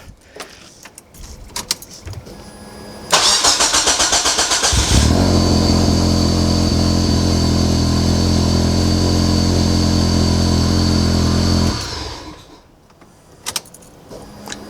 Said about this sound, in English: That starter motor definitely sounds different.